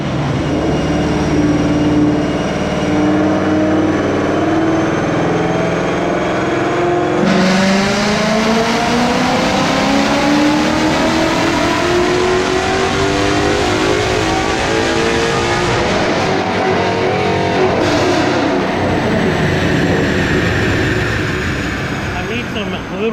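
A Ford Mustang Bullitt's engine revs hard and steadily through a dyno pull, a loud continuous roar with pitch sweeping upward as it builds power, staying close and dominant throughout.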